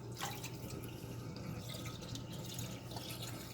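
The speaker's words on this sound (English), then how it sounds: "we'll get even more hot water into it" Hot water pours steadily into a cast iron pan during cleaning after cooking, a continuous splashing rush that holds at an even level throughout with no voices.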